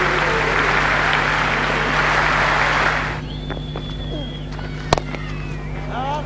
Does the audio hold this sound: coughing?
no